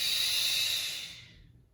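A long, breathy exhale during a yoga flow, a single steady airy rush that fades out over under two seconds, close and alone.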